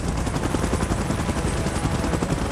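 Helicopter rotor thumping steadily and loudly through a Godzilla vs Kong action scene, a dense rumbling roar that never lets up, with no talk over it.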